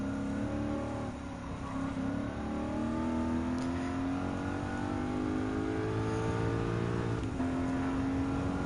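BMW M4 and C8 race cars in Gran Turismo 7 with engines revving and accelerating steadily through gear changes, a loud sustained whine of rising pitch that drops briefly before climbing again, with no talk.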